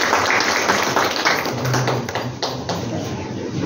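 An audience at a Marathi poetry book launch applauds for a teacher, a dense, steady clapping from many hands that fills the room and stays even and loud throughout.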